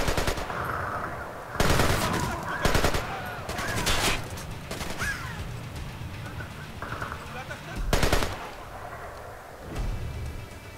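Rapid AK rifle fire in the video game Splinter Cell: Conviction, loud bursts repeating through the scene amid other game noise and a talking voice.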